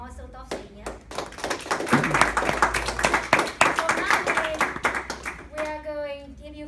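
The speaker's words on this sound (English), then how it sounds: "I think they deserve a round of applause" A small audience at a Bristol Central Speakers club meeting claps for the table topic speakers, a modest round of close, distinct hand claps that rises and fades, with voices speaking at the start and end.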